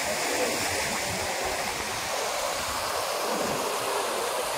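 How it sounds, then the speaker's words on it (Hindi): Fast-moving floodwater rushes in a steady, loud, broadband roar that stays unbroken and even throughout, with no voices heard. "ये बाढ़ का पानी कितनी स्पीड में बह रहा है।"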